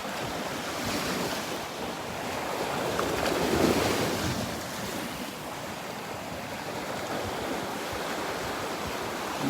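Gulf beach surf at Delnor-Wiggins on a breezy morning, waves washing steadily ashore in a broad hiss and rush, with faint wind buffeting the microphone and no voices.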